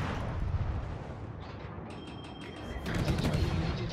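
Naval guns firing in World of Warships during a battle against the Lepanto, a dense rumbling barrage with louder bursts near the end, heard over steady low background rumble without speech.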